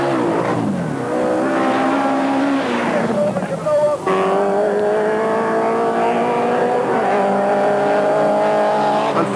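Rallycross cars at Mondello Park in 1986 race through the final lap, one with an ailing engine, their engines revving and shifting pitch with some tyre squeal, loud and continuous under a commentator's voice.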